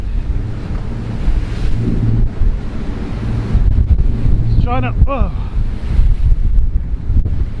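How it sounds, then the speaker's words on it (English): Rough, boiling sea surges around a Trader 535 Sunliner motor boat, with loud wave wash and heavy wind buffeting the microphone throughout, and someone speaking briefly close by. "you can see all of the boiling water over there"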